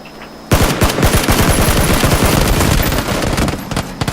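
Sudden burst of rapid automatic gunfire in the game PUBG, loud and close, continuing in a dense volley for several seconds.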